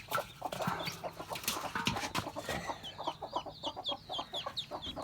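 A hen that hatched duck eggs clucks nearby in a steady run of short, low calls, with a faint rooster-like cackle and light chick peeps in the background.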